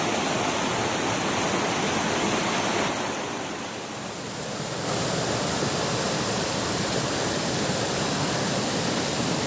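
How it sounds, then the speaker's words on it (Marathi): Heavy rain and rushing, risen water make a loud, unbroken roar at night, easing slightly for a moment partway through before surging back to full strength. "पाणी वाढलेलं आहे आणि पाऊस खूप पडतोय"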